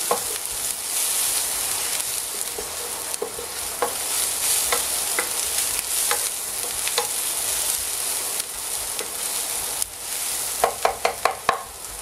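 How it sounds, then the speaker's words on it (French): Onions sizzle and fry in a pan with a steady, close crackle, while a utensil stirs them in occasional scrapes and taps that cluster near the end. "Je vais griller un peu les oignons. Là on les fait bien griller."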